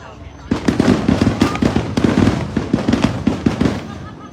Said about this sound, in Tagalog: Sa ano ito sa community ni Serena Williams, ang fireworks na to.